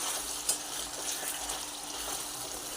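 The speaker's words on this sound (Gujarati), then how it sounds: "સરખી રીતે એને મિક્સ કરી દઈશું" Soft sizzling of spice masala frying in oil in a pan, made while cooking a cluster bean and potato curry, stirred with light scraping and a faint clink, quiet and close.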